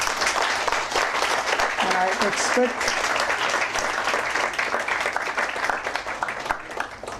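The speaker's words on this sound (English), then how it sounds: "So I request you all one round of applause to female lawyers" Sustained applause from an audience at a legal seminar on the Motor Vehicle Act, many hands clapping in a dense, lively patter for several seconds, with a voice briefly heard near the start.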